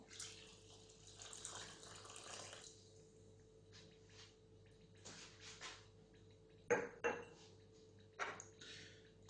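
Water poured into a pot to make syrup for filled pastry horns, with soft splashing and trickling in a kitchen, plus a few clinks of metal cookware, fairly faint.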